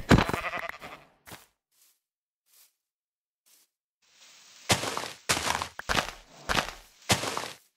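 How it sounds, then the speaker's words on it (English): Several short, loud bleats from a sheep in Minecraft in quick succession, with a few soft thuds and stretches of near silence before them. "Oh, sheep."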